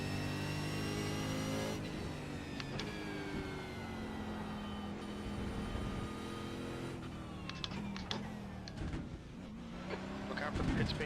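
A V8 Supercar engine in iRacing on a cool-down lap, droning steadily with shifting pitch as it changes gear. It sits at moderate level, with a voice talking over parts of it.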